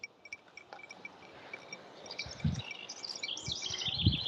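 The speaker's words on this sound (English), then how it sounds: "Tweeting birds and water sounds." Birds tweeting at Port Aventura's Wild West area, with quick high chirps scattered throughout and a busier cluster of calls toward the end over a soft wet background of water.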